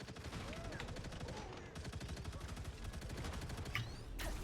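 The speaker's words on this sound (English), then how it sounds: "The Punisher's pony turret is active!" Punisher's turret opening up in the hero shooter Marvel Rivals, a rapid, unbroken stream of automatic gunfire rattling steadily for several seconds, with voices chattering underneath.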